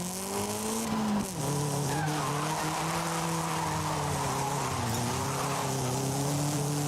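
A car drifting in Forza Horizon 5, a sustained loud tire squeal over a steady droning engine, shifting pitch as the slide continues, with no talk.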